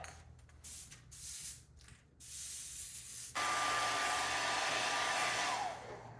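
Thin pearl paint sprayed onto a fishing glide bait with an airbrush, short hissing bursts at first, then one long continuous close spray hiss that fades out at the end.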